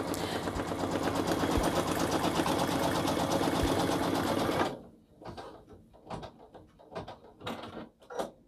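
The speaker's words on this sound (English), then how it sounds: "I'll stitch that next without even taking it out of the hoop" An embroidery machine stitching a glitter patch runs in a steady, dense, rapid mechanical chatter for about five seconds, then stops, leaving scattered softer clicks and handling noises.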